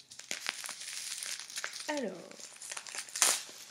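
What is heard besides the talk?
gift wrapping paper crinkling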